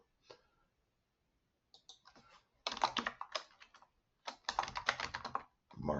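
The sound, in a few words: typing on a computer keyboard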